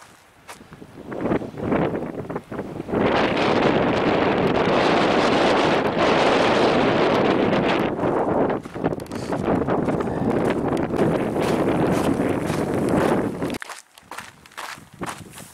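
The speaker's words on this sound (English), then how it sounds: "Crazy wind." Strong outdoor wind buffets the microphone during a walk in Arizona, a loud roaring rush that persists for most of the stretch before cutting out near the end, with faint footsteps underneath.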